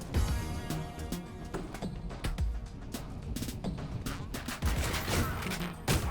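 Rapid bursts of video-game gunfire from Ion Fury, sharp repeated shots in quick irregular volleys, loud and busy with no talking.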